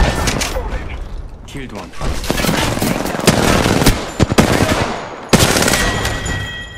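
Rapid video game gunfire in Apex Legends-style shooter on Kings Canyon, bursts of automatic shots with booms and mechanical clicks, loud and close, while a voice speaks briefly over it.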